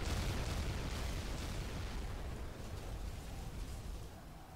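Rumbling explosion from a real-time strategy battle in Rise of the Reds, a broad low boom that decays slowly over several seconds, moderately loud with no talk over it.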